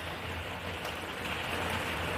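Steady rain falls outdoors in cold weather, a continuous even hiss of drops filling the scene without pause, close and uniform with no voices.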